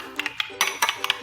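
A utensil whisks tempeh batter in a bowl, giving a run of quick, light clinks and taps in short bursts, close and fairly clear, with no voices.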